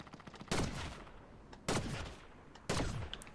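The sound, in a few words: gunshots in the video game Fortnite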